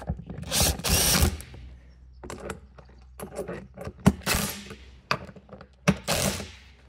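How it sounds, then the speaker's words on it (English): Power drill boring into the seat mount of a 110cc drift kart chassis: several loud whirring bursts of varied length, spaced by short pauses and ratcheting clicks, close up in a workshop with no one talking. "let's see if I can film and drill at the same time."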